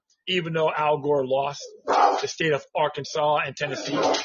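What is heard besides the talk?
dog barking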